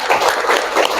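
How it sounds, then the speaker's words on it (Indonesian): Children in a classroom clap their hands together during an icebreaker, a short burst of dense, overlapping clapping from the group, fairly close and steady throughout. "Tepuk tangan dulu."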